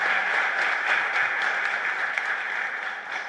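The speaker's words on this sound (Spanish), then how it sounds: "Fuerte aplauso para esta familia." Congregation at a Mass in a Schoenstatt chapel in San Antonio applauding a family, a steady dense roll of many hands clapping at moderate distance, without speech, tapering slightly at the close.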